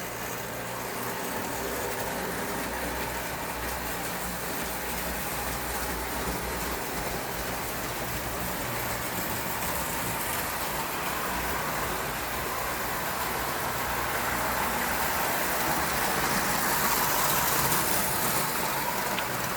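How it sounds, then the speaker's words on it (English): A model train with a single-axle drive and a small can motor runs steadily, a continuous close-up whir with rolling clatter that builds slightly louder toward the end. "Now, for a single axle drive and a small can motor, that thing's doing pretty good"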